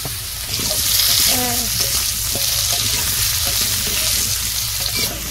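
Potatoes fry in oil during village cooking, a steady loud sizzle with scraping stirs and a few clinks running throughout, close to the pan.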